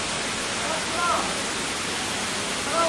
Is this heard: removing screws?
no